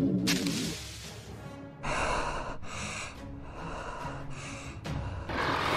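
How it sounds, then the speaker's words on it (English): Kong, the giant ape in an animated Godzilla cartoon, breathes heavily in loud, rhythmic gasps and snorts, each rasping inhale and exhale repeating about once a second, close and with no talk over it. "Why is Kong breathing like that, bro?"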